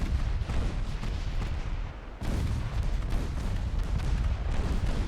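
Naval gunfire from Ultimate Admiral Dreadnoughts, with torpedoes launched: a dense, continuous roar of booming cannon shots and rumbling blasts, loud and sustained, with a brief dip near the middle before the barrage resumes.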